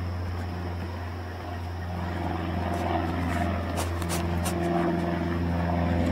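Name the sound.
airplane flying overhead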